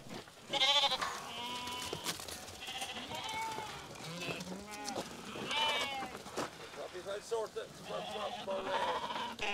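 Several wild Irish hill sheep bleat repeatedly at varying distances during shearing, loud and overlapping, with a person talking underneath.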